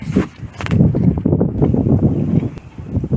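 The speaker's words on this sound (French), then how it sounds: "Il y a du vent" Gusty outdoor wind buffets the microphone in uneven low rumbling bursts, with a few faint knocks mixed in.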